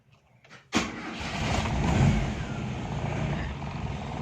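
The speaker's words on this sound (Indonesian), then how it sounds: "Kita akan coba start mesinnya." A 1987 Toyota Kijang third-generation KF50 station wagon engine cranks and catches at once, then settles into a steady, rumbling idle close by.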